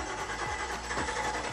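A motorcycle engine catches and starts, a brief low mechanical churning with rising revs, fairly quiet and close, with no talk over it.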